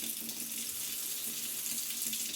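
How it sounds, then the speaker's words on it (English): Water runs steadily from a Moen Riley pull-down kitchen faucet into the sink, a continuous close hiss and splash at moderate pressure with no voices. "the perfect water pressure coming out of the faucet if you don't want it on full blast or a trickle"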